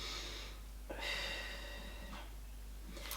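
Slow, soft exhaled breaths through the nose during a Pilates stretch, a few quiet airy puffs spaced about a second apart over a faint steady background hum.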